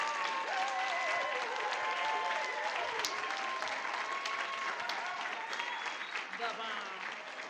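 Sustained applause from an in-person audience at a panel Q&A event, with dense, steady clapping running the full length alongside raised voices and cheering tones.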